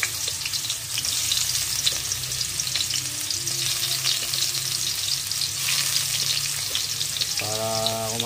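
Ginger sizzles and fries in a pan for a shrimp and vegetable ginataan, a steady crackling hiss with light stirring scrapes throughout.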